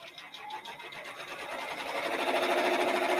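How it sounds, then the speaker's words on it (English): A Brother PR1055X embroidery machine stitches with a rapid, steady mechanical whirring and chattering rhythm, close and clear, growing slightly louder as it runs. "so we can see it embroidering"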